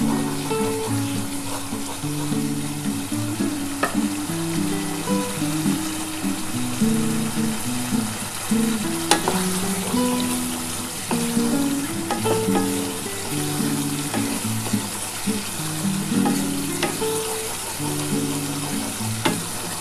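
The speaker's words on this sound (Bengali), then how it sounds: "ভালো করে কিন্তু এটা কষিয়ে নিও" Vegetables sautéing in oil in a pan for doi potol, Bengali yogurt-based pointed gourd curry, a steady loud sizzle with occasional stirring scrapes throughout, no voices.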